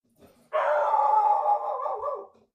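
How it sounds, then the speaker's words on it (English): A dog lets out one long, loud, sustained howling bark close to the microphone, holding for nearly two seconds before trailing off, with a faint yelp before it and quiet around it. "Sorry, it's my dog."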